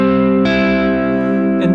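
An electric guitar plays an A-form arpeggio through heavy distortion, with the fingers not rolled across the strings, so the notes blur into one loud, sustained, buzzing chord with a couple of fresh picks.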